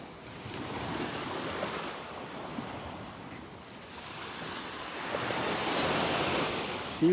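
Waves washing onto the beach at Delnor-Wiggins, a continuous surf roar with wind buffeting the microphone, swelling louder toward the end.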